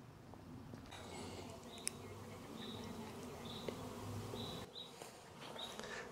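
Honeybees hum steadily around hives at an outdoor bee yard, with brief louder passes of single bees flying close by over a constant background drone, no talking.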